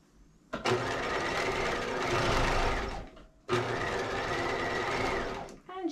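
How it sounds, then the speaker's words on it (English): Sewing machine stitching a capelet seam at a regular 2.5 mm stitch length: two close, loud, steady runs of rapid mechanical whirring, each a few seconds long, separated by a brief pause. "pinned into the capelet, now we're going to sew it."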